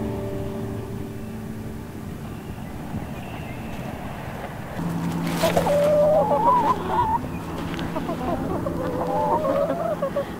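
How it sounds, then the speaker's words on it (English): Chickens clucking and calling around a backyard garden, a steady murmur of hens with brighter calls rising in the second half, fairly close, over a constant outdoor background. "the chickens follow me everywhere"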